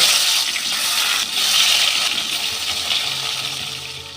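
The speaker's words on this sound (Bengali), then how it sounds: "আমি মাছগুলো ভেজে নেব" Loud, continuous sizzling and crackling of aar fish frying in hot oil, steady and close, with no one speaking.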